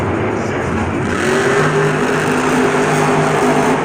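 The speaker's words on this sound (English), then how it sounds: "I feel like that engine's straining a little bit." A loud monster truck engine drones steadily at a Monster Jam event in Houston, revving with a strained, labored tone that holds throughout.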